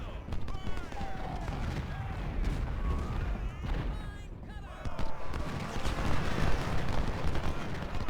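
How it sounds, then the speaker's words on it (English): Artillery guns firing on a Ultimate General Civil War battlefield during the Siege of Jackson, with repeated booming shots and rumbling gunfire under a continuous noisy battle backdrop and some speech. "they got a gun over here. I can hear it."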